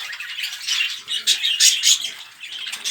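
Pet birds in a breeding cage where the female is sitting on eggs, giving close, busy high-pitched chattering and rasping chirps in quick bursts, with some rustling.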